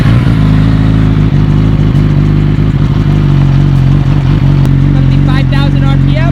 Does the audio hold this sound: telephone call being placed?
no